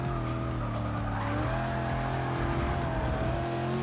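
A D-class race car at full power laps Watkins Glen in Forza Motorsport 6, its engine a loud, continuous high-revving drone with a faint tire squeal and no talk.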